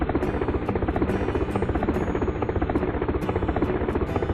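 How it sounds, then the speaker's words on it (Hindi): A helicopter near the sea over a remote island during a rescue, its steady rotor chop pulsing evenly and continuously at moderate loudness with no other sounds. "चौथे दिन समुद्र के पास एक हेलीकॉप्टर की आवाज सुनाई देती है।"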